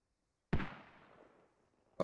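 A mortar explosion in a first-person military video game booms once, sharply and fairly distant, with a rumbling tail that fades out, followed by a second short, sharp report about a second and a half later.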